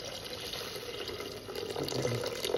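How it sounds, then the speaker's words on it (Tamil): Dissolved black tamarind water pours into a simmering karakuzhambu curry, a steady close splashing trickle that swells slightly toward the end. "புளி நம்ம கரைச்சி வச்சுருக்கோம்ல அந்த புளியை ஊற்றணும்"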